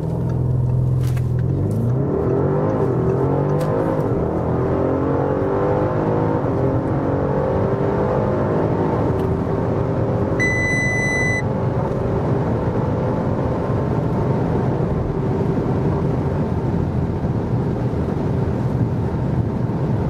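A 560 hp Audi RS7 quattro engine roars steadily as it accelerates hard from 0 to 200 km/h, pitch climbing through gear changes, with wind and road noise building over twenty seconds.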